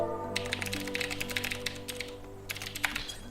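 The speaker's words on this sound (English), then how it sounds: "Oh god, that's terrible typing." Quick, uneven clacking of keys on a computer keyboard, light taps in irregular bursts with short pauses, fairly faint over a steady low musical hum from Final Fantasy XIV gameplay.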